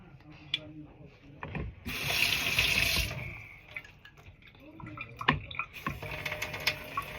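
Water runs from a tap in a loud, hissing gush lasting about a second, with rubbing and handling noises around it and voices talking nearby.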